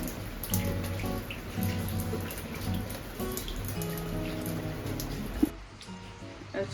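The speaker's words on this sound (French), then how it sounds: "Depuis hier, il fait que pleuvoir." Rain falls steadily outdoors, with close, irregular drips and patters spread evenly across the clip until it cuts off near the end.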